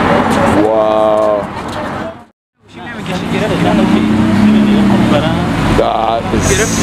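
Orange Lamborghini SVJ Roadster fitted with a Gintani straight pipe exhaust, its loud engine roaring and revving up close, with a short break mid-way, while excited voices talk over it.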